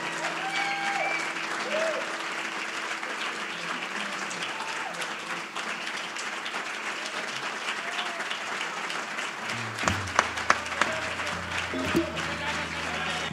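Audience applause at a live concert, sustained clapping from a crowd throughout, with a voice speaking over it and a few louder knocks near the end.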